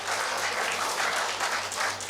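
An audience at a Hindi shayari poetry recital claps steadily, a dense, even wash of applause that holds for a couple of seconds.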